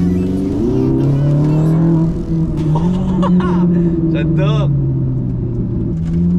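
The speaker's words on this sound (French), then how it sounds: "Déjà, la mélodie du V8 est déjà énorme" A Ferrari 458 Italia's naturally aspirated V8 hums steadily and then swells under acceleration, loud and close, with someone talking and chuckling over it.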